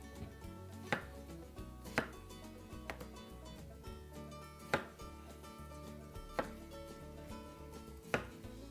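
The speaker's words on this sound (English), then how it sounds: "We've got a nice chunk of watermelon here, so we'll cut these into bite size." A knife chops a chunk of watermelon into bite-size pieces on a board, with several distinct, sharp chopping knocks spaced about a second apart over a steady background of music.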